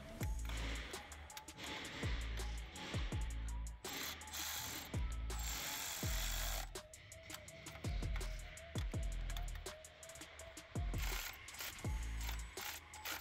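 Rapid clicking of a Milwaukee ratchet fitted with a small extension, turned back and forth on a thermostat housing bolt of a 2012-2020 Chevy Sonic 1.8L, in close, loud bursts with brief pauses between strokes.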